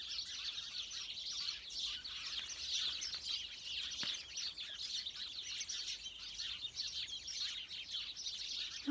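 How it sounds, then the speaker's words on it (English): A wood pigeon sings outdoors in the west of Ireland, faint within a dense, steady chorus of chirping birds that runs continuously throughout. "there's a wood pigeon as well singing"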